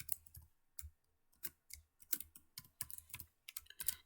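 Quiet, close computer keyboard typing of HTML code, irregular bursts of crisp key clicks with short pauses between them, no talk.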